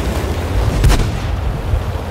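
A tank gun fires once in World of Tanks, from a Type 95 Heavy tank battle: a single loud, close boom that cuts through a steady low rumble of background battle noise, with no talking.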